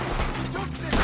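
Gunfire rattles through a Red Dead Redemption 2 shootout as enemies are fired on up in a tree, a dense, loud, continuous burst of shots and echoes with no pause.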